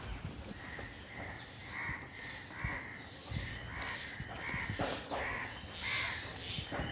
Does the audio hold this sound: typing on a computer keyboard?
no